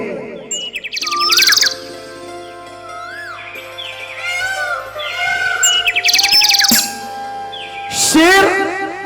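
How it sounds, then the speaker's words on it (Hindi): Birds chirp and sing in bright repeated tweets and whistled calls, fairly close and lively, with several bursts of song over a steady low hum in the background. "मीठे मीठे पंछी बोल रहे हैं।"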